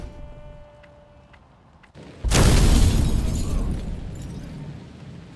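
A bomb detonates in Hitman Contracts, a sudden loud, broad blast that rolls into a long, rumbling decay, following a stretch of quieter game ambience.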